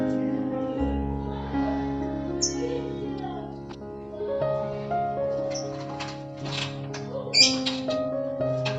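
Lovebirds at a breeding farm in Belitang, East OKU, chirp and squawk in scattered bursts over a steady low hum, with sharper calls standing out near the end.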